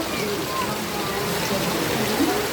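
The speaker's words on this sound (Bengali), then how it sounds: "এখানে মুসুলদারে বৃষ্টি হচ্ছে" Rain pouring steadily in a village setting, a dense even hiss and patter filling the clip at a moderate, unbroken level.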